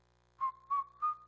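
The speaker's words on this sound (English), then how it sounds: "Tri-City Center has shoppers whistling a happy tune." Three short, bright whistled notes in a rising, cheerful phrase, clear and close against a quiet background, the opening of a happy tune in a radio advert for a shopping center.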